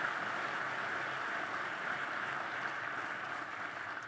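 Sustained applause from a large commencement ceremony audience, a dense steady wash of many hands clapping at even loudness throughout with no talk over it.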